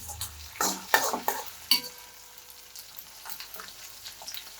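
Onion and garlic stir-frying in a pan for vegetable fried rice, with scraping stirs and clinks of a utensil over a soft, steady sizzle, close and fairly quiet, with no talk.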